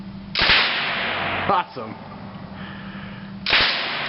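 A suppressed Lage M-11/22 submachine gun conversion fires two quick bursts, each a sharp rapid crackle, with a brief exclamation from a voice in between.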